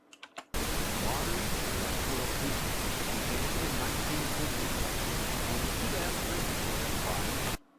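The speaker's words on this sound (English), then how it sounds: "at this point, the pink noise dominates" A steady, loud wash of pink noise fills the space, hissing evenly for several seconds before cutting off abruptly.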